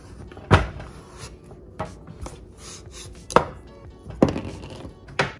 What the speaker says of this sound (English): I'm gonna go in and cut off this side as well.